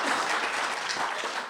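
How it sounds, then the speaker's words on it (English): Audience applause for the hosts at a USDA ReConnect award announcement in Utah, a steady dense wash of clapping throughout, fairly close and continuous without talk. "It's an applause for them"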